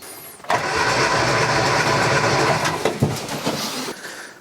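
A classic Mini engine is cranked on the starter during a cylinder compression test, a loud, steady churning drone that starts abruptly and runs for several seconds before it slows and stops.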